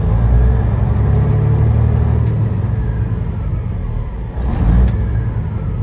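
The freshly overhauled engine of a 2014 Peterbilt 389 glider truck rumbles loudly up close, holding a steady low drone with a brief swell in revs toward the end.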